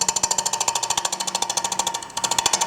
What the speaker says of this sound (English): I have the lathe running at about 800 RPMs, and I'm going to come in here and very lightly touch here.